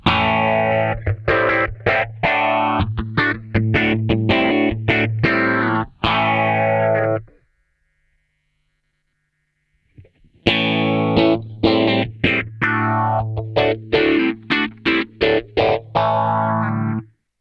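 Electric guitar run through a Kemper phaser effect, distorted chords strummed with a sweeping, swirling tone, loud and close; two bursts of playing separated by a few seconds of silence, with no talk.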